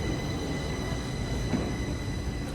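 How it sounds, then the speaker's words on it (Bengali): Steady low rumble of a train arriving at Slussen station in Stockholm, Sweden, with faint high whine and rattling, continuous throughout at moderate loudness. "যেটা আর একটা ট্রেন আসছে আমরা এখানে নামছি"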